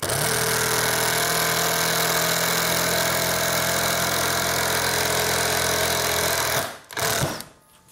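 A Tekiro 20V cordless impact driver drives a screw into very hard wood without a pilot hole, giving a loud, continuous rattling hammer for over six seconds before it abruptly stops, followed by a brief second burst.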